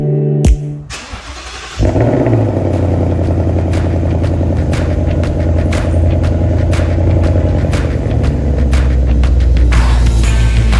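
A car engine starts with a sharp crank, then settles into a steady, close rumbling idle that continues, slightly louder toward the end, as the car is taken out for washing.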